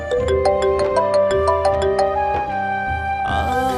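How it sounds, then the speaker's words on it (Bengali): A phone ringtone plays a bright repeating melody of tonal beeps in a steady rhythm, loud and close, signalling an incoming call, with no voices over it. "বাবা তো ফোন করছে"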